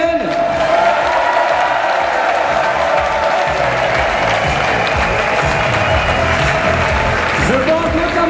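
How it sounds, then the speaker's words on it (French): A crowd at a La Manif Pour Tous gathering applauds the weekend's volunteers. The clapping is loud and sustained, with scattered cheers and whoops mixed in, and the sound stays dense and close throughout. "applaudissements à tous les bénévoles de ce week-end"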